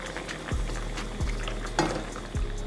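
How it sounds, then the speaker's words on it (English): Sweet pepper and tomato go into a sizzling pot of turkey neck for Jamaican brown stew, giving a steady close frying hiss broken by a few dull clunks of a spoon or pieces landing in the pot. "I'm going to add some sweet pepper and tomato to this"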